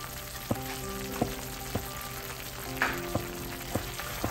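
Condensed milk cooking in a pan for kalakand gives a low, steady sizzle and bubble, marked by faint regular taps of a stirring spoon about every half second, close and quiet with no speech.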